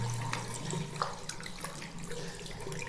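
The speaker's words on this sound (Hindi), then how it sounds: "हाथ को अच्छे से धो लीजिए" Hands being washed under a running tap, a steady stream of water splashing into a sink with small shifting splashes, close and alone.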